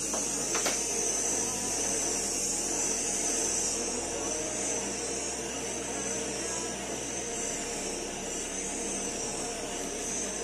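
Steady broadband roar of a gas torch flame heating a copper water pipe joint for soldering, held close and continuous throughout with no pauses or talk.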